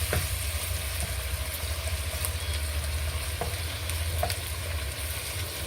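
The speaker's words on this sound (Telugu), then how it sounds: "బాగా కలుపుకోవాలి. పచ్చి వాసన పోయేంత వరకు కలపాలి." Onions fry in a pan with ginger-garlic paste as they are stirred, giving a steady, dense sizzle with soft scraping from the spoon throughout.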